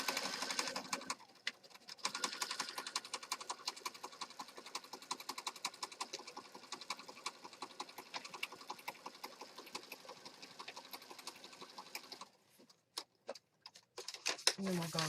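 A sewing machine stitches through a junk journal in a rapid, even run of needle ticks for about twelve seconds, pausing briefly before a few final stitches, quiet and close.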